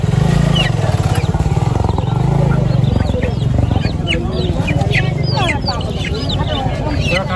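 Tiger chickens cluck and squawk among other birds at the Hemayetpur bird market in Savar, bursts of calls over steady crowd noise while people talk nearby.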